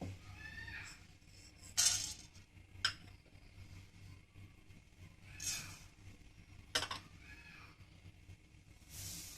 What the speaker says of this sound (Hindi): पैन रखा है और इसके अंदर ये मसाले डाल के भूनेंगे।